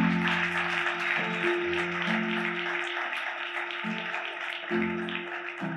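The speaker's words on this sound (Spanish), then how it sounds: "Fuertes aplausos aplauso al Señor." A church congregation claps for the Lord during a Spanish-language service in Barcelona. The dense, steady applause runs through the whole passage beneath sustained keyboard or organ chords.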